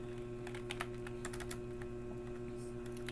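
Rapid clicks of a computer keyboard being typed on, close up and steady, over a constant low electrical hum.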